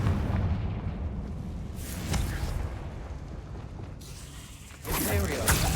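A Confringo blasting spell explodes in a Harry Potter video game, with rumbling booms and blasts layered over a busy combat soundscape, including a sharp burst near the end.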